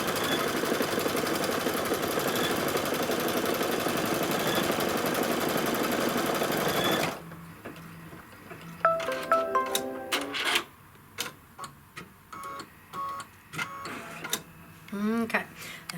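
An embroidery machine stitches a placement line on poly mesh stabilizer, running as a dense, steady whir for about seven seconds. Scattered clicks and mechanical taps follow once it stops.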